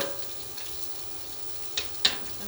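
Vegetables fry in a pan over a high flame, a quiet steady sizzle broken by two brief sharp pops near the end.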